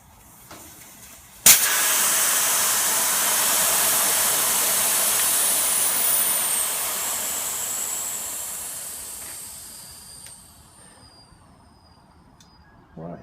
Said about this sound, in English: now to let all the air out